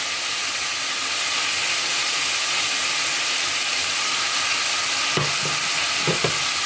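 Chopped large onion frying in a pan, a loud, continuous close sizzle with a couple of brief utensil knocks near the end.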